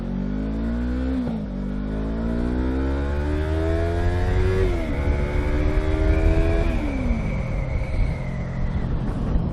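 A 2015 Yamaha R3 motorcycle engine revs up through the gears while riding, pitch climbing and dropping at each shift, loud and steady with wind noise.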